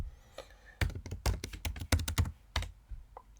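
Typing a terminal command on a Mac computer keyboard, a quick irregular run of close, crisp key taps and clacks with short pauses, quiet overall and no talk.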